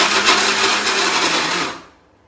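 A kitchen mixer grinder whirs loudly and steadily while grinding broken pieces of adai, then winds down and fades out.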